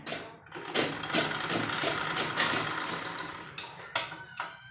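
An overlock sewing machine runs in a fast, buzzing whir while interlocking the seams of an umbrella-style dress fabric, then stops and starts in short bursts, close by.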